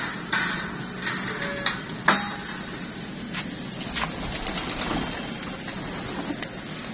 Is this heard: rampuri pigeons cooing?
yes